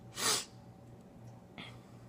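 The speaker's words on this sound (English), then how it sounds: "Oh, sorry, I might sneeze." One sharp, breathy sneeze bursts out up close, followed by a softer sniff or catch of breath a moment later.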